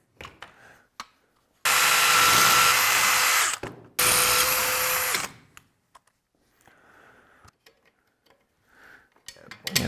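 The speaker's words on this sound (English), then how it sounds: "Drill a hole there, drill a hole there." A power drill boring a hole during work on a modified C5 Corvette, heard in two loud, steady whirring bursts of a few seconds each with a short break between, and quieter talk before and after.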